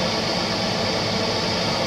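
A truck engine idles with a steady, unbroken low rumble and broadband drone, loud and close, with no talking over it.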